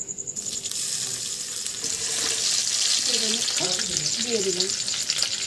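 Green chillies and panch phoron sizzle in hot oil in a pan, a steady close frying hiss throughout, with a brief spoken remark early on.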